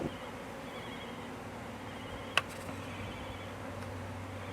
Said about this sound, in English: it's just really nice to see a honeybee colony